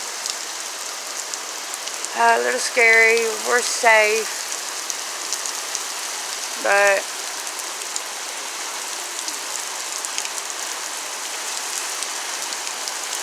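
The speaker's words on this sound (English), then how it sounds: "Now it's just a lot of rain." Heavy rain during a thunderstorm, a dense steady hiss of downpour on surfaces throughout, with a person speaking briefly over it.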